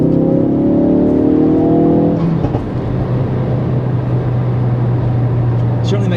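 A Ford Focus RS fitted with the Mountune FPM375 upgrade accelerates hard, its engine droning loudly and rising through the gears from inside the cabin, with a gear change partway through.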